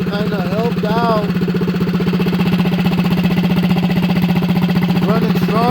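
A small mini bike engine with a shaved exhaust runs steadily close by, a rapid even putter that holds throughout while a voice speaks over it.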